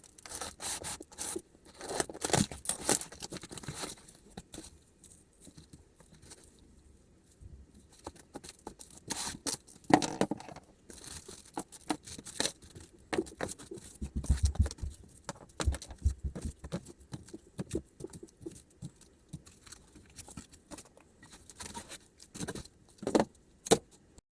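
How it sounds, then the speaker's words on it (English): Cardboard parcel holding a metal undercarriage for a Volvo EC550 excavator model being opened by hand: irregular rustling, tearing and crinkling with scattered sharp clatters, close and moderately loud, no talk. "I will unbox it right now and take a look"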